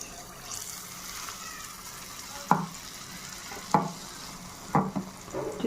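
Paala booreelu batter dropped into hot oil, each scoop setting off a sharp sizzling burst at regular intervals over a steady background crackle of frying.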